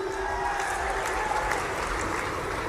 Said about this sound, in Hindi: सचिन भाई, जोरदार तालियां सचिन भाई के लिए भी।